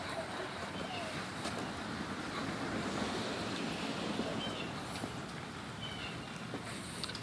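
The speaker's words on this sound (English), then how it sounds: "It's raining." Rain falling steadily outdoors during a walk, a continuous close hiss with gusty rushing texture throughout, no talking heard.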